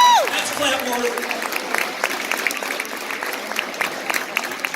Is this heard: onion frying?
no